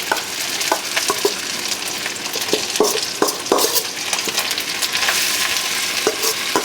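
Corn, onion and peppers fry in oil in a pan with a loud, steady sizzle, broken by frequent clicks and scrapes from stirring.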